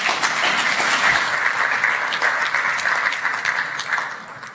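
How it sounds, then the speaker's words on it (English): A conference audience at a digital infrastructure panel gives a warm, steady round of dense clapping that fades slightly at the end. "Ladies and gents, round of applause please for Greg Bentley."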